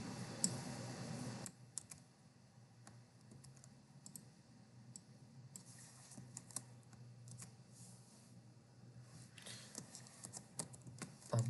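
Rapid typing on a computer keyboard, with steady clusters of soft key clicks and a few louder taps, close and alone against quiet room noise.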